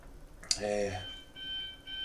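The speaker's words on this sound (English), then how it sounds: "oh, a wee alarm." A small electronic alarm goes off indoors, sounding as steady high-pitched beeping tones that continue at a moderate level after a brief voice is heard.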